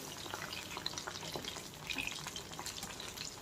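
Marinated prawns frying in a pan over medium heat, a steady soft sizzle and crackle throughout with faint stirring and scraping, fairly quiet and continuous with no voices.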